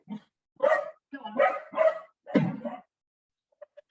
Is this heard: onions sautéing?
no